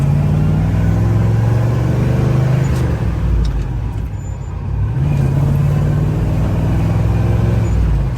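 A 1970 Chevrolet Chevelle SS engine rumbles steadily while accelerating, with a low, smooth exhaust note, dipping briefly midway before swelling again, amid surrounding road noise.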